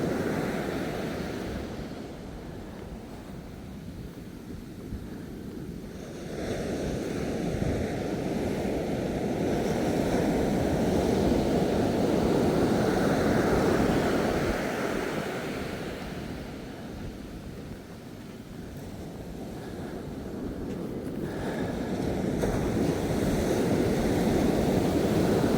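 Ocean surf rolls onto soft-sand Ōakura Beach in a steady, broad wash that swells and eases in slow waves, with a faint wind rush over the microphone and no voices.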